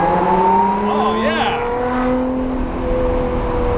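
A light Lotus sports car accelerates hard through the gears, its engine note rising in loud sweeping pitch climbs, with a quick shift partway through before it pulls on strongly at close range.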